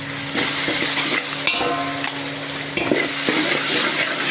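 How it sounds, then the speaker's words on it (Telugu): Garlic paste hits a pan of whole spices and cashews frying for chicken dum biryani, giving a close, steady sizzle punctuated by a few spoon clanks against the pot. "వెల్లుల్లి పేస్ట్ వేసుకుందాం"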